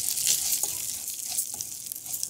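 Rice frying in oil in a small pan, a steady bright sizzle with faint crackles and pops throughout, close and continuous without any voices.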